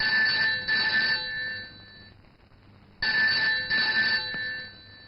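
A telephone rings twice, each burst a trilling electronic double ring, with a pause of quieter background between them.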